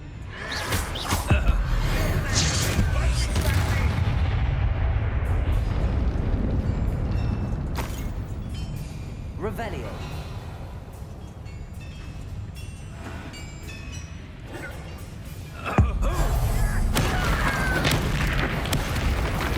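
Bombarda blasting spells going off in the Hogwarts Legacy video game, a dense run of loud booming blasts over nearly twenty seconds, with a sharp fresh burst late on and no talk over it.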